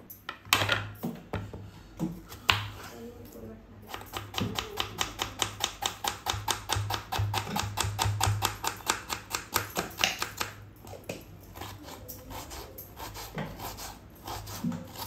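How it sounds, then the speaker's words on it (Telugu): Onions being cut with a knife in a home kitchen, a fast, steady run of crisp, close taps across the board with brief pauses, busy kitchen clatter in the background. "ఇప్పుడైతే నేను ఉడిగడ్డలు కట్ చేస్తున్నాను"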